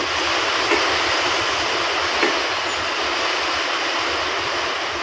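Heavy rain drumming on a roofing sheet, a loud, dense, unbroken hiss that stays constant throughout with no voices.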